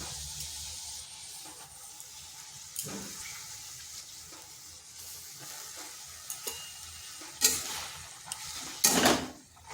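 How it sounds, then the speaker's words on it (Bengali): Drumstick leaves (sajne shak) dropped into a pan of salted water and stirred, giving a soft steady sizzle and wet stirring scrapes, with a few sharper clatters and splashes near the end. "ভালো করে জলের সাথে মিশিয়ে নিলাম। দিয়ে দিচ্ছি শাকগুলো।"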